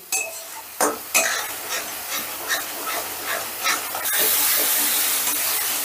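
Spice paste with sugar being sautéed in oil in a pan, a few sharp scraping stirs followed by a rising steady sizzle, close and clear.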